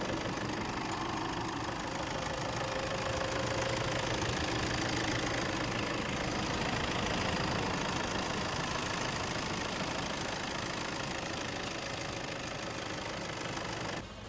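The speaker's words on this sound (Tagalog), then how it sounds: "And mapapansin nyo yung makina niya. Tingnan nyo yung tunog." A 2016 Toyota Fortuner V engine idles close up, a steady mid-pitched hum with a faint rhythmic knock running evenly for the whole stretch, with no talk over it.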